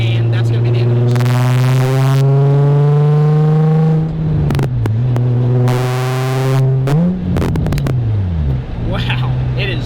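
Nissan 350Z drift car driven on a road, its loud engine revving hard with rising and falling pitch, repeated throttle bursts and brief lifts between them.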